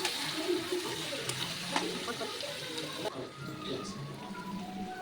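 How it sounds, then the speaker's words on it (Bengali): Mutton pieces stirred into spiced oil in a pan for a home-style goat curry, giving a steady moderate sizzle and frying crackle with scraping stir sounds; the sizzle eases slightly partway through. "মাংসটা দিয়ে ভালো করে নাড়াচাড়া করে নেবো"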